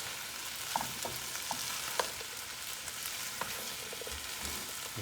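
Shrimp and zucchini sauté together in a pan for a Mediterranean-style dish, giving a steady close sizzle broken by light clicks and scrapes of stirring.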